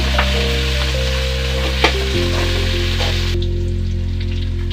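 Green chillies, coriander and mint sautéing in a pan for tomato rice, a steady loud sizzle over a constant hum, with a couple of brief stirring clatters and no talk.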